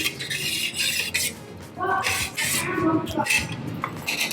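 Watermelon nannari sharbat juice stirred with lemon, a spoon clinking and scraping against a glass or vessel in short bursts, with soft kitchen background noise.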